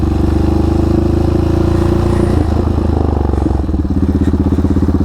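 A quad ATV engine, a Banshee-style machine, revs loud and close as it powerslides, a steady buzzing drone that breaks into choppy bursts of rapid pulsing before settling back into an even high rev.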